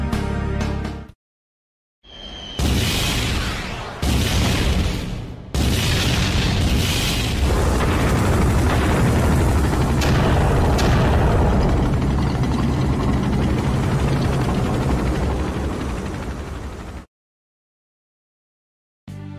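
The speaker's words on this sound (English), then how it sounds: "Dwarven tanks, ready to fire!" Dwarven tanks open fire in Final Fantasy IV, a heavy sequence of loud booms and blasts that swells into a sustained roaring barrage for about fifteen seconds before cutting to silence.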